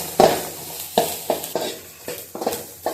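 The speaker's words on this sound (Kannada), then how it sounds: "ಈರುಳ್ಳಿ ಈ ಥರ ಫ್ರೈ ಆಗಬೇಕು" Onions fry in a pan for a greens and lentil bassaru, with a soft continuous sizzle broken by a series of sharp stirring scrapes and clinks at an uneven rhythm.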